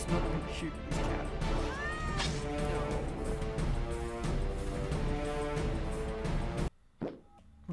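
A cat meows in the Battle Nations game amid busy music and battle effects, the meow rising and falling in the middle before a sudden drop to near silence and a brief hit.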